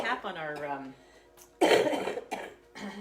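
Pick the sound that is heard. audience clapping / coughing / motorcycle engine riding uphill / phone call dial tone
coughing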